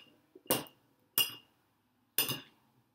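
A utensil strikes a small bowl three times while mushrooms are mixed in marinade, each a sharp, close clink with a short ring, spaced irregularly over a quiet background.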